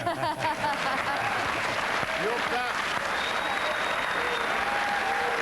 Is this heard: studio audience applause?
yes